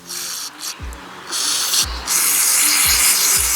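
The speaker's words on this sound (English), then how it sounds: "I'm gonna spray a little bit of the CRC, the non-chlorinated brake parts clean. I'm gonna go ahead and spray down in there." Aerosol hiss of CRC non-chlorinated brake parts cleaner sprayed into a dirt bike carburetor, several sustained bursts of bright spray with short pauses, close and fairly loud, over low knocking handling sounds.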